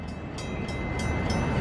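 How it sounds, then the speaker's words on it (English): A train bell clangs in a steady, regular rhythm about three times a second over a continuous rumbling background, at a trainwreck-themed diner. "Train bell was ringing."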